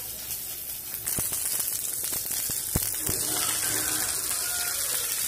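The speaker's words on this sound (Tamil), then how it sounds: "இனி வந்து நம்ம அறுத்து வச்சு இந்த அவரைக்காயை சேர்த்துடலாம்" Chopped broad beans dropped into a pan of sautéing onions, a soft sizzle that swells after the beans land, with a few sharp clicks and taps of the pan under a steady hiss.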